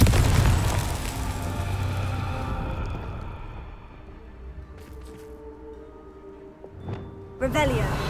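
A Confringo blasting curse explodes in Hogwarts Legacy with a loud booming burst at the start that rumbles and fades, and a voice sounds near the end.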